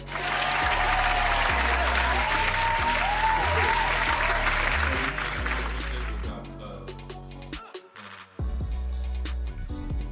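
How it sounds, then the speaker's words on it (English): Applause sound effect played back during a talk show, dense steady clapping for about six seconds that drops away, then the clapping briefly resumes. "Where's the clapping?"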